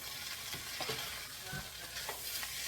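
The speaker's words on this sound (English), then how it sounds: "we start mixing. You want to get it covered with the oil." Cold rice is stirred in hot oil in a pan, giving a constant close sizzle broken by soft scraping strokes of the stirring utensil every half second or so.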